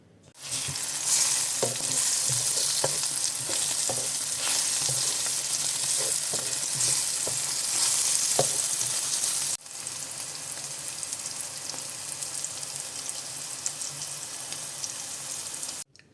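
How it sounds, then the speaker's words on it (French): Zucchini with red and yellow peppers frying in a pan, a loud, steady sizzle with scattered crackles and stirring clatter. It dips briefly partway through, then carries on without talk. "Pour ce midi, je me suis préparé une poêlée de courgettes poivrons"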